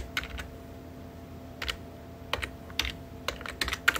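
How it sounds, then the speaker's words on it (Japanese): A search term is typed on a computer keyboard, with scattered bursts of crisp key clicks, some quick runs and single taps, close and fairly quiet over a faint steady hum. "イップマンで打つと"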